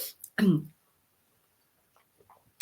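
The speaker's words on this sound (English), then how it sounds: "Excuse me, I'm going to cough." A single short, harsh cough bursts out, followed by near silence and a few faint breathy sounds.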